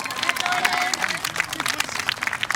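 A crowd claps and cheers for honor roll students at an eighth grade moving-up ceremony. Uneven, bursty clapping mixes with voices and a whistle, moderately loud throughout.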